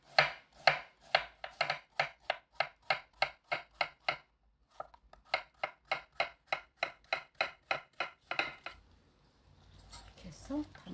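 Knife slicing cleaned old Korean cucumber (nogak) for kimchi on a cutting board, a quick regular run of crisp chops, a short pause, then more steady cuts before some softer handling noise.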